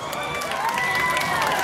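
A parade crowd at a 7 de Setembro Independence Day march in Limoeiro, Pernambuco, applauds and cheers a school marching band; dense, steady clapping and shouting fill the air with faint tonal traces throughout.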